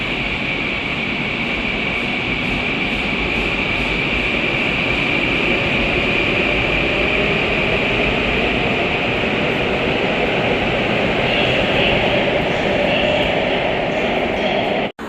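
GTX train set A09 at Kintex station, a loud steady rumble of rolling wheels and motor hum with a high whine, continuous for about fifteen seconds and cutting off abruptly at the end.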